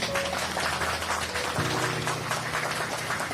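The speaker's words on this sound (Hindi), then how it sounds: "एक ताली मारिए प्रभु की।" A church congregation claps together during a Hindi-language sermon on the life of Gideon, a steady dense patter of many hands under a low hum, with no voices over it.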